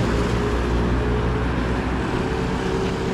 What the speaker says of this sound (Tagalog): Yan ang mga bus dito mga kabayan